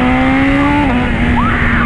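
A BMW S1000 motorcycle carrying a passenger accelerates nearby, its engine note a steady loud drone that climbs and shifts pitch partway through, running alone without talk.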